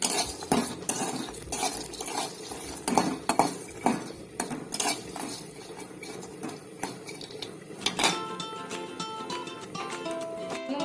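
Santula vegetables frying in mustard oil, with a spoon stirring and clattering against a metal pan in rapid, uneven knocks over a low sizzle, close and moderately loud.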